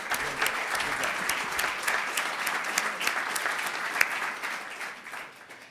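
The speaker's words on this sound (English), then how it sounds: "can we also give a round of applause to our moderator" A room full of people claps steadily for the moderator at the close of a legislative preview panel event, dense and even throughout before thinning out and fading over the last second.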